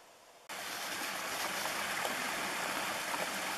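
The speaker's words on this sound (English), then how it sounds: "it's little waterfalls that makes quite a lot of noise, but it's pretty neat" Small waterfalls beside a mountain trail in the Moose River Plains in fall rush loudly, a steady broadband roar of falling water that starts abruptly and continues unbroken, close by.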